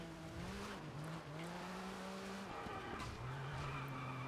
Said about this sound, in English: you have to be way more aggressive than I would have expected with this car to get it to start sliding on the tarmac